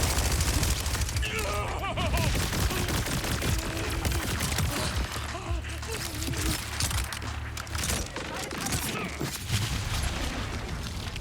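Gunfire from a weapon in the video game Borderlands 4, rapid repeated shots and impacts in dense bursts amid game effects, with someone talking over the action.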